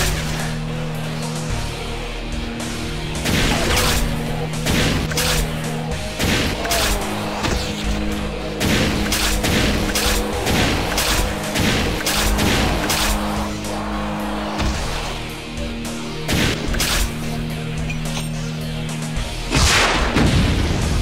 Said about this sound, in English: let's get the Mancubus cannon out once again